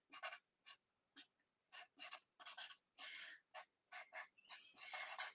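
Felt-tip markers scratch across card stock while colouring a stained-glass style card, in quick separate bursts of strokes with short pauses between them, close and fairly quiet, with no one talking.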